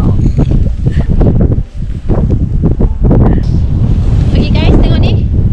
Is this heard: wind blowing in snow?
yes